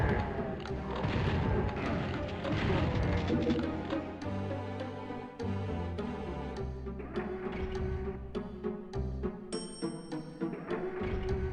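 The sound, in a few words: Super Shotgun firing in PS1 DOOM video game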